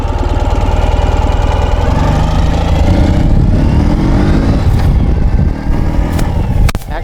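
The engine of a 2012 Ural Gear Up sidecar motorcycle runs loud and close with a rough, throbbing beat that shifts in pitch as it revs, easing off near the end.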